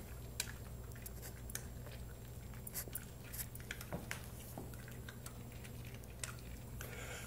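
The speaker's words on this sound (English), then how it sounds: "Listen to them crunching on it." Pets crunch and chew on flavored treats close up, giving a steady stream of small crisp bites and squishy chewing clicks over a low background hum, with no talking.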